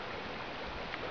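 A small side waterfall splashes into a stream, a steady, close rushing and gurgling wash of water with no voices over it.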